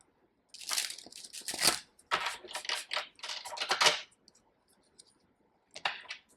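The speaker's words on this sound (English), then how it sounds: "They're telling me 2 more shuffles." Bursts of crisp riffling and clicking as tarot cards are shuffled, in several close runs with short gaps and a final quick burst after a pause.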